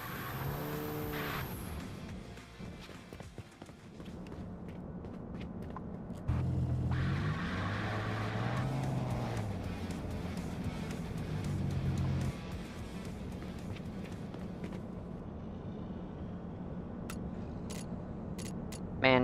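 A car's engine runs steadily on a dyno lift during a horsepower test, a continuous low drone that swells louder partway through and holds under occasional mechanical clatter.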